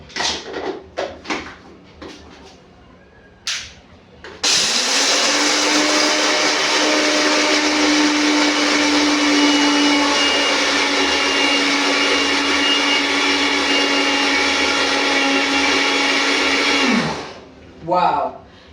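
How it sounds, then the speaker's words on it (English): A blender grinds roasted peanuts for a smoothie, starting after a few light clicks and knocks, then roaring loud and steady for about twelve seconds with a sustained whine before cutting off, followed by brief handling noise. "because now I have peanut, so I'm going to grind them. These are roasted peanut."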